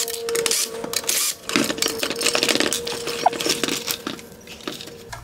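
T20 Torx screws are driven out of an OEM Xenon headlight from a 2015-2017 Volkswagen Golf GTI: close, brisk metallic clicking and rattling taps with scraping patter and short pauses, and no voices.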